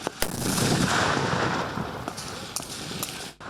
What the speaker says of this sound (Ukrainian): подавляють щільним автоматним вогнем. Поряд вибухають протитанкові міни.